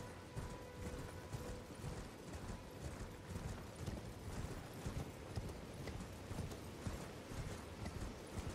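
Horse hooves gallop in a fast, steady clip-clop across Elden Ring's open terrain, loud and continuous, with a low game ambience underneath and no talking.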